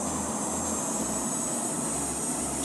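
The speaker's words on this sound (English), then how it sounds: "Okay, this is our aircraft and we are ready for takeoff." A jet airliner's engines hum steadily at takeoff power in the Infinite Flight simulator, a constant, fairly faint roar with no speech.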